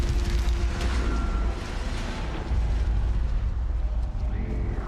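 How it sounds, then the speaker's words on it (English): Explosion in the video game Mass Effect 3: a loud, sustained low rumbling roar fills the whole stretch, with debris-like crackle and a slight dip midway, dense and continuous rather than a single sharp bang. "Just exploding."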